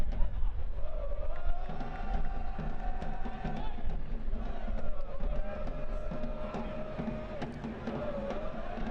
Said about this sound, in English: Good-sized crowd here in City Stadium, making a lot of noise, trying to cheer on their kickers.